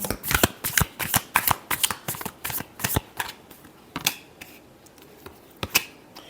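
Tarot cards being shuffled close up, a rapid run of crisp flicking snaps that slows to scattered, softer card slides and a final few clicks.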